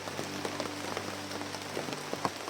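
Steady rain falls on a surface with scattered drops pattering close by, a soft continuous hiss and no voices, while someone travels outdoors on foot searching for companions in the rain.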